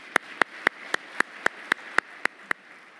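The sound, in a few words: applause for the team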